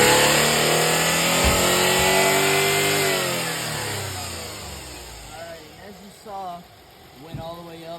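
A car engine in an automotive lab rises briefly in pitch as the throttle is tapped during a sensor test, then settles back toward idle, with a voice speaking over the end.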